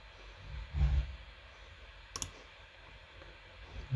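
Computer mouse clicks while working in Fusion 360 3D modelling software, a couple of soft, close clicks with a quiet pause between them and no speech.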